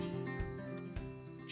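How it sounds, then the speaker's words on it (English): Crickets chirp steadily at a night-time campsite, a faint, continuous buzzing trill with no voices. "I'm definitely being like attacked by an onslaught of crickets already."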